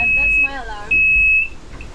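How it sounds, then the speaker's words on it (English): A loud, piercing electronic alarm beeps in two long tones, close by aboard a Mini Transat racing sailboat, with a short burst of speech between them. "And that's my alarm."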